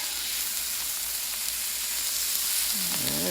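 Shrimp fried rice sizzles in a wok over medium-high heat, a continuous close hiss and crackle, with a faint voice creeping in at the very end.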